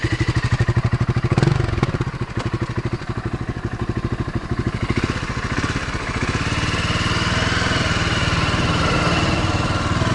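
A 2007 BMW G650 X-Challenge enduro motorcycle's single-cylinder engine runs steadily nearby, a loud, even, rapid thumping throb that holds for the whole stretch with no talking.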